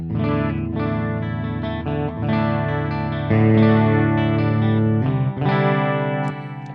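Charvel Pro-Mod So-Cal electric guitar strummed chords through a clean amp model based on an Orange amp, with a bright, sustained amplified tone and some reverb, played continuously without talking.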